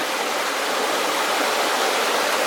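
A Sierra Nevada creek near an old gold mine flows with a continuous broadband rush and burble, steady and close, with no speech over it.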